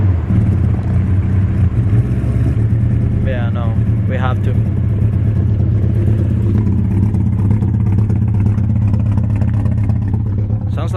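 A car engine cranks and fires, then runs with a rough, uneven idle and brief revs, loud and close, while people talk over it.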